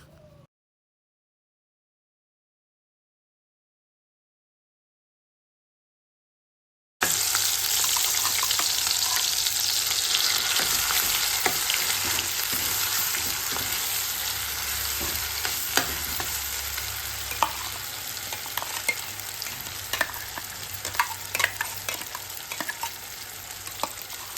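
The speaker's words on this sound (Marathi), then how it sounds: "ते व्यवस्थित परतून घ्यायचं" Prawns sautéed and stirred in a pan for a Konkan-style prawn curry, a steady close sizzle and crackle with scraping stir strokes running throughout after about seven seconds of silence.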